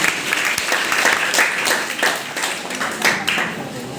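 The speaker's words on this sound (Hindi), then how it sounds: "जोरदार तालियों से स्वागत करें।" A college audience gives a welcoming round of applause at a mental health day event, scattered and uneven clapping with individual claps standing out, rising and easing, with faint talk underneath.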